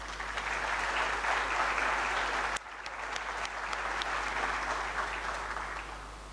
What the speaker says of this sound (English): you can clap for yourself definitely